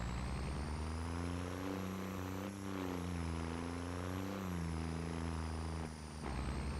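A 420 horsepower vehicle in Farming Simulator 25 revs under acceleration, a loud, steady engine drone with rising and falling pitch, briefly dipping twice as if shifting gears, with no talk over it.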